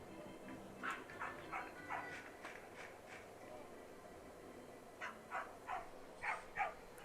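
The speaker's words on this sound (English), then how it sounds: "dog in the stands almost barking perfectly in tune with the stadium sound" A dog in the stands at a minor league baseball game barks in two quick bursts of several yelps, faint and distant over the steady ballpark ambience.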